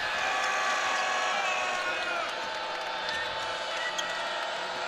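Loud, continuous crowd roar inside a packed arena during a women's college basketball game between North Carolina and Virginia Tech, a dense steady wash of cheering and noise that fills the whole stretch.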